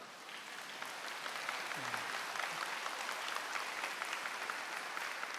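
A church congregation applauding during an evening worship service, a dense, even wash of many hands clapping at moderate distance throughout, with no clear voices.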